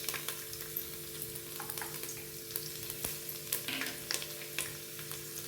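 Garlic frying in about two ladles of oil with peanuts in a pan, a faint, steady crackling sizzle with scattered small pops and stirring clicks, no talking.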